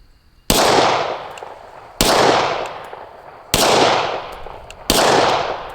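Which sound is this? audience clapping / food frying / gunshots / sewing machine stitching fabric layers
gunshots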